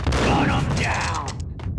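Rapid gunfire from the PS2 version of Max Payne in a disco setting cracks out in a dense, close burst that fades toward the end, with a voice and game effects mixed in.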